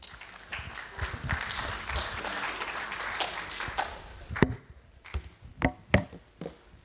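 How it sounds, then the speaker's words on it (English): An audience at a Kabarak University tech event claps for an arriving guest; dense, faint applause runs for about four seconds, then breaks into a few separate, sharper claps before fading. "Let's clap for him as he comes"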